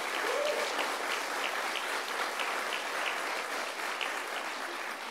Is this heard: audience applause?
yes